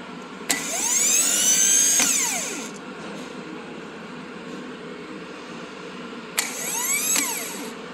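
Lawn mower electric starter whirs twice, its gear engaging the flywheel and spinning: a sharp clunk, a rising high-pitched whine that winds down, a pause with low hum, then a second shorter burst.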